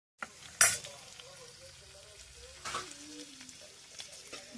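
Onions sizzle and fry in hot oil with tempering spices and curry leaves, a steady crackle with a sharp burst as they hit the pan, followed by occasional stirring and faint clinks of utensils.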